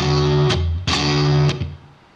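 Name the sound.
electric guitar with reverb added on an HX Stomp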